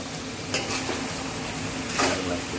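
Tomatoes and masala frying in a pan for chicken curry, a loud continuous sizzle up close with a couple of sharp spoon stirs scraping the pan, no talking.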